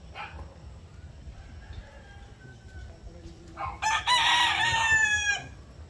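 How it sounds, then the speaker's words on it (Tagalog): Gamecocks, including a two-time fight winner, crow loudly and close by in a rural Filipino yard, one long crow rising over softer clucking and background bird calls. "Ito mga manok ni Chong."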